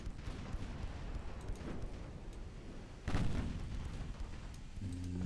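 Seven-inch naval guns firing in the battleship game Ultimate Admiral Dreadnoughts, heard as rolling, heavy booms under a constant rumble, with a loud, close blast near the three-second mark.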